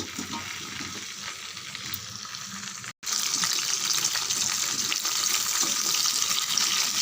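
Okra sautés in a generous pour of hot oil, a loud continuous sizzle close up with a brief cut partway through, after which the frying hiss returns stronger; no one speaks.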